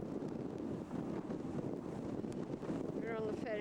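Wind buffets the microphone on a ferry crossing from Wellington to Picton, a steady loud roar with a low rumble, and a voice comes in briefly near the end.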